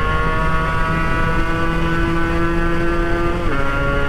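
A Yamaha RX-King motorcycle engine drones loudly and steadily while riding, with a constant close rumble and a slight pitch shift near the end.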